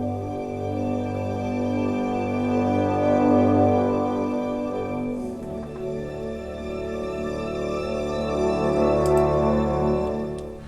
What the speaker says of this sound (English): Here is the strings from Capri from Sonokinetics and brass from Sonokinetics.